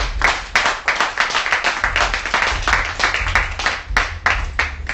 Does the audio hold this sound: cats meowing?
no